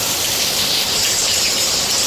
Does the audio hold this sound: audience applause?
no